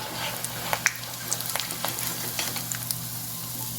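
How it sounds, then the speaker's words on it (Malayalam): Prawn cutlets fry in hot oil, making a continuous close sizzle dotted with small pops and crackles. "ഈ എണ്ണയിൽ ഫ്രൈ ചെയ്തെടുക്കാം"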